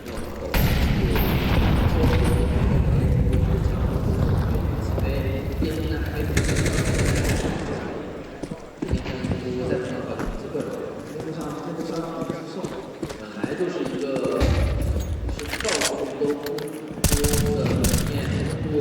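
Gunfire and explosions during a professional Counter-Strike match at the PWE Shanghai Major, loud, dense bursts of shots and booms running throughout under fast, excited commentary.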